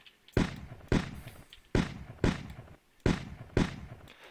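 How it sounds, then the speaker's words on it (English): A double-barrel shotgun firing in a zombie defense video game: six heavy booming blasts in pairs, each with a short decaying tail, loud and close with no talk. "So apparently the shotgun's a double barrel."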